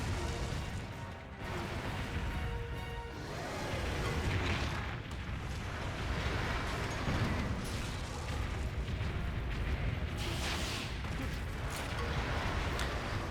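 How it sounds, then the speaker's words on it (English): Cannon blasts fired at Akantor, the black god monster in Monster Hunter Generations Ultimate, booming repeatedly amid a continuous loud rumble of battle noise with no talking. "Shoot God in the face with a cannonball."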